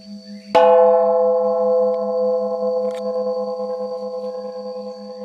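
A temple bell struck once inside Pha Lai cave rings out loud and close, its long metallic hum slowly fading, with a faint second tap partway through and no voices.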